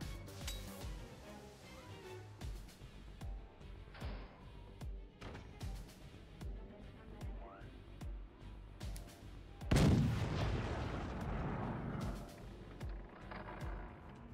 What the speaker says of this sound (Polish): Cały czas strzelam do reaktora.